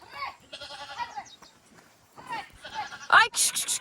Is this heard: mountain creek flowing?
no